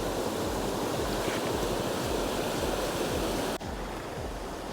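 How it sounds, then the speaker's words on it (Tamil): Floodwater rushes loudly through a channel in flooded Kilinochchi, a steady roaring wash of moving water close by, continuous throughout with a brief dip near the end. "எவ்வளோ வெள்ளம் போகுதுன்னு பாருங்க."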